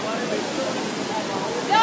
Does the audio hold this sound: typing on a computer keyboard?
no